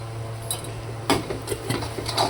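Ingredients for pasta sautéing in oil in a pan, with a utensil scraping and clinking against the metal in a few quick strokes over a low steady background.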